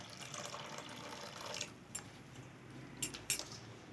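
Lukewarm water is poured into rice flour for chitoi pitha batter: a soft, faint pour for a moment, then quiet with a few light clinks.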